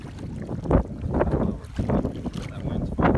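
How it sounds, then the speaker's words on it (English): Paddle strokes splash beside a small fishing boat in gusty wind, a series of uneven close sloshes under steady wind noise on the microphone. "It's hard paddling with one hand."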